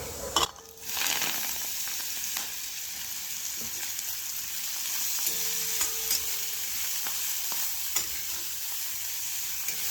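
Tempering of asafoetida, turmeric and chopped fenugreek leaves for a traditional Maharashtrian methi dish sizzles steadily in hot oil, opening with a loud burst as the greens hit the pan, then a continuous crackle with occasional stirring clinks, no talking.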